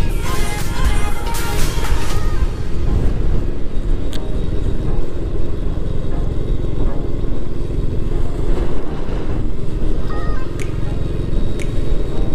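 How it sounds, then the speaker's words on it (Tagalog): Strong wind buffets a microphone with a continuous loud low rumble, broken by occasional faint knocks and clicks. "Medyo malakas yung hangin."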